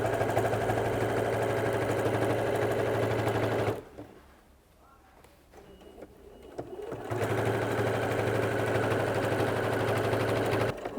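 A sewing machine stitches a tool belt apron, its fast steady whirring running loud and close, stopping for a few seconds in the middle, then resuming at full speed.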